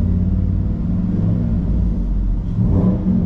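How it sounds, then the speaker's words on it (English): A Chevy 3500 with a 6.0 LQ4 V8 revs through its throttle range, a loud, close, steady rumbling drone that swells slightly toward the end. "And I'll go through the throttle range just a little bit."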